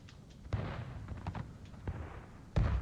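Artillery battery firing in the Civil War game War of Rights: several booming blasts ring out over a continuous rumble of battle, with two heavy, close reports standing out, one early and one at the end.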